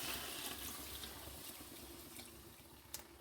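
Coconut milk from ground coconut poured into a cooking pot for a soya chunk curry, a steady liquid splashing and trickling that stays fairly loud throughout.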